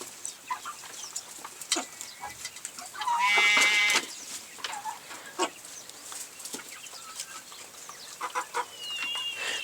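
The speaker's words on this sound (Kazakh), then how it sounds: "3-4 айлық бройлерлер." Three-to-four-month-old broiler chickens in a pen, a flock clucking and squawking close by, with a louder sustained call in the middle and scattered calls throughout.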